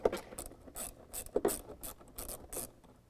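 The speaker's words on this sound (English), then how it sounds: "What we're going to do is just loosen that band clamp up." Band clamp being loosened on the factory air box of a 2017 Ford F-150 5.0L V8, quiet close ratcheting and scraping clicks in short irregular bursts, no talk.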